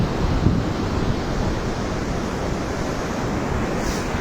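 Steady surf at Sidi Kaouki beach in Morocco, a continuous close wash of breaking sea waves mixed with wind rumble on the microphone, with no voices.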